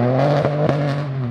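Peugeot 208 Rally4 rally car engine droning with a steady harmonic hum, broken by a couple of sharp crackling pops from the anti-lag system, close and loud with no talk.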